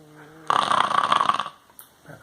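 A dog snores just like a person: one long, loud, rasping snore close by, then quieter breathing and faint household sounds.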